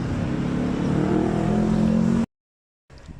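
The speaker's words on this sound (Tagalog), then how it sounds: "nakasakay na kami sa tricycle" A motorized tricycle's engine drones loudly from onboard for about two seconds, then cuts abruptly to silence before faint background noise returns.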